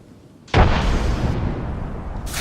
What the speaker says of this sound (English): Chucking a frag.